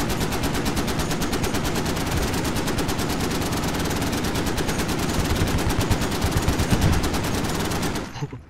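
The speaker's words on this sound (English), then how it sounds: "Unload an entire mag into that?" Sustained automatic gunfire from a rifle in the video game Squad, a rapid, loud, unbroken stream of shots for about eight seconds as a magazine is emptied, then stopping abruptly.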